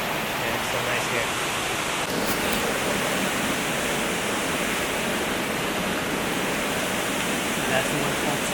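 Waterfall at Finch Hatton Gorge pours in a steady, unbroken rush of broadband water noise, close and even throughout with no voices.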